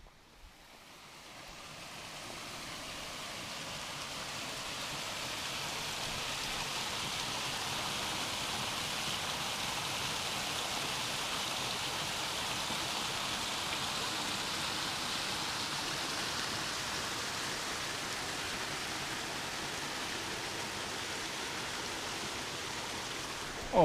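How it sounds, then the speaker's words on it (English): Small waterfall beside a hiking trail near an old footbridge, on the way to Bridal Veil Falls: a steady, full rush of falling water that swells in over the first seconds and then holds loud and even, with no talking. "I want to check out this little waterfall action."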